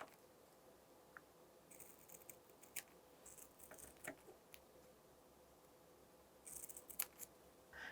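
Quiet, sparse snips of scissors cutting double-sided tape, a few scattered crisp clicks against a near-silent background.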